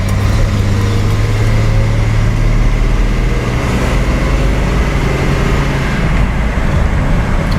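A rusty Datsun 280Z rescued from a junkyard idles steadily with a deep, continuous low engine drone and no breaks or revs, loud and close throughout.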